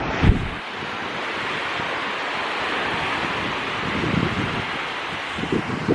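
Steady wash of surf and wind on a beach, with a broad continuous roar and gusty microphone buffeting, close and loud, and no talking.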